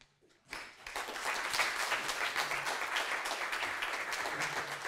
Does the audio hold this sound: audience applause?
yes